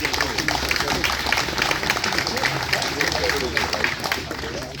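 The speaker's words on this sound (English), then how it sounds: "A big round of applause for yourselves," A crowd at the Distinguished Gentlemen's Ride charity motorcycle event applauds, a busy clatter of clapping mixed with crowd noise and voices, fairly loud and ongoing.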